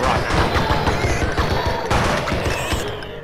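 Rapid, loud pistol shots from Blood and Bacon fire in a continuous stream of sharp cracks across the whole moment, close and dense, with thuds of game action mixed in.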